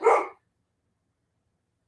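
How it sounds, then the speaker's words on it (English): A single short, close dog bark in a house yard with guinea fowl and chipmunks nearby, sharp and fairly loud, followed by silence. "he has to start barking because my guinea fowl is not happy with the chipmunks being out and about"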